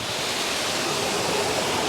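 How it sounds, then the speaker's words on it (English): A loud, thundering waterfall roars as a dense, unbroken wash of noise filling the whole clip, close and powerful, with no voices. "I hope you can hear me over the thundering water, because it's quite loud"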